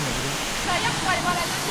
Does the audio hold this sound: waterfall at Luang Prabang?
yes